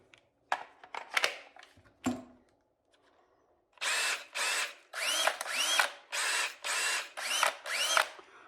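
An older DeWalt 20V Max cordless drill, first a few clicks and knocks while a battery is fitted, then seven or eight loud, close bursts of motor whir in quick succession.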